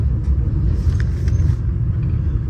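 Low, steady rumble of a VIA Rail passenger train hauled by two General Motors F40PH-2 diesel locomotives, built in London, Ontario, on the Canadian line between Parry Sound and Sudbury, a continuous heavy drone with no voices.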